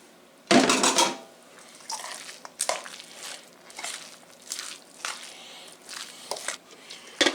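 Cooked pasta tossed into a salmon pasta salad, with clinking utensil scrapes against a bowl and soft wet mixing sounds repeating in short irregular strokes.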